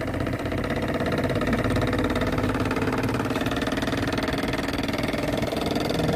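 A small engine on a miniature PVC rice-field tractor hitched to a PVC cart runs continuously up close, a steady, rapid putter with a slight knocking rhythm and no speech.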